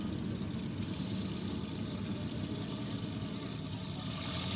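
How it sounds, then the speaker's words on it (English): A classic car's 16-cylinder V16 engine idles at a concours event, a dense, steady low rumble holding close and even throughout with no talk over it. "That is the sound of a 16-cylinder."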